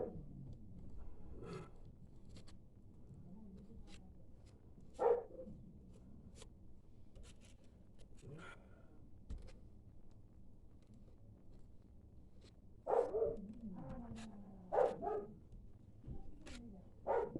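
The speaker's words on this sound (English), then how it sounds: "the dog always has to bark when you're in the middle of doing a video" A dog barks several times indoors, the short barks fairly faint and scattered over a low background hum.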